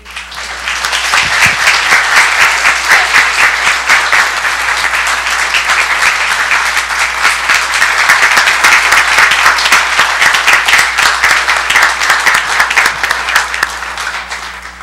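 Sustained applause from a school district audience honoring a staff member, many hands clapping loudly and steadily for about fifteen seconds, building slightly and fading at the very end.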